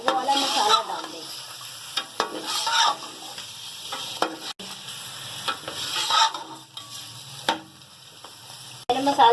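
Onions frying in oil for Degi chicken korma make a continuous close sizzle, broken by repeated scraping and stirring sounds at irregular intervals.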